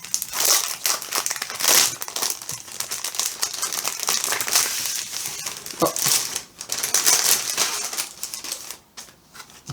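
Continuous crinkling and crackling of plastic packaging being unwrapped from a small embroidery cushion, close and fairly loud, with irregular bursts and no talk.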